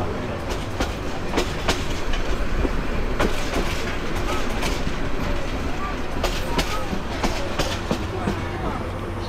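The Mohanagar Express running from Chittagong to Dhaka, heard from on board near Nangalkot station: loud continuous rumble with repeated clickety-clack of wheels over rail joints throughout.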